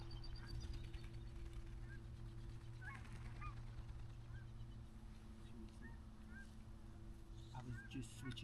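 Scattered honks from geese sound at a distance over a low steady hum, heard from a hay bale hunting blind, with a few calls clustering near the end.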